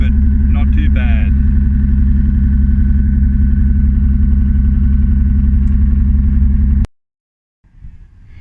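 A Celica fitted with a Toyota Supra twin turbo straight six idles a bit high, giving a loud, steady low rumble with a brief rattle near the start, then cuts off abruptly and is followed by silence and a short faint noise.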